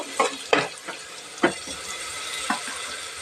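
Vegetables sizzle steadily in a hot pan for a Telugu-style curry, with sharp scraping strokes of a spatula at irregular intervals, up close and with no voices.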